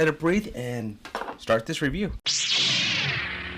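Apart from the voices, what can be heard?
cork popping out of a Booker's Reserve whiskey bottle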